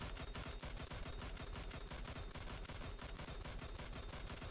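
Rapid automatic weapon fire in PUBG Mobile, with an unbroken stream of fast, evenly spaced shots that is fairly quiet and heard alone.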